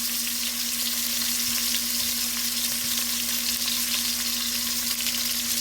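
Oxtails searing in a hot pan to build a crust, a steady loud sizzle with constant crackle and a low electrical hum underneath, no talk.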